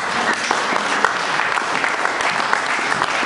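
A church congregation claps and cheers in a dense, continuous burst of applause that fills the room, loud and steady throughout with no clear speech on top.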